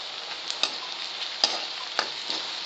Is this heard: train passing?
no